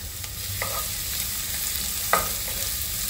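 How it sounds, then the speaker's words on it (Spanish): A chunk of onion and a large garlic clove fry in hot oil, with a steady close sizzle broken by a couple of brief stirring scrapes. "aquí en el aceite voy a freír la cebolla, es un pedazo de cebolla y un diente de ajo de buen tamaño"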